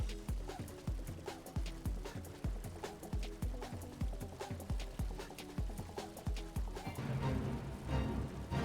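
A rhinoceros mount walks in the Final Fantasy XIV video game with steady, heavy rhythmic hoofbeat footfalls repeating evenly for several seconds. Game music or ambience swells near the end.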